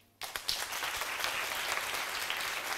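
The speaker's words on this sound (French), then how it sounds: "Ceux qui sont pour Tanti n'ont qu'à applaudir" An audience at a school quiz competition breaks into sudden applause after a brief quiet moment, with steady clapping that carries on to the end.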